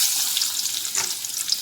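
Small shallots and curry leaves frying in hot oil for a country-style chicken curry give a steady, dense, crackling sizzle that holds close and even throughout, with no talking.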